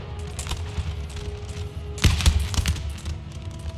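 Musket volleys crack out in Empire: Total War during a line battle, a scattered string of shots and then a louder burst of massed fire heard over a low battlefield rumble.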